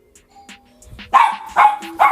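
Faint chime-like tones ring in a quiet indoor space, then a nearby dog bursts into three loud, sharp barks in quick succession.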